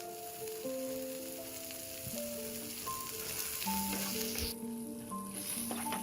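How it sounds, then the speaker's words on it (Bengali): Chapa fish fries in a pan with onion, chili and garlic, giving a steady, fairly quiet sizzle with a faint tonal background hum throughout. "চাপা মাছের পেঁয়াজ মরিচ আর রসুনগুলো দিয়ে দিচ্ছি এখন এই সব কিছু এই মাছের সাথে আমি কয়েক মিনিট ভেজে দিচ্ছি"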